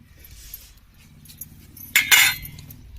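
A metal pressure cooker clinks and clanks sharply twice as it is set on the stove, brief and close, with faint background hum.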